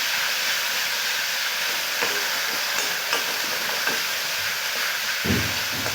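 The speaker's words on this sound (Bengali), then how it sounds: "পেঁয়াজগুলো একটু ভাজা ভাজা করে নেব।" Onion paste fries in a pan with a steady, close hiss and sizzle, broken by a few soft stirring scrapes and no talking.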